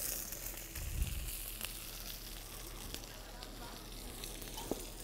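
Butter sizzles and crackles in a hot pan with roasted lobster claws, a steady close hiss with a low thump near the start and a sharp tick toward the end.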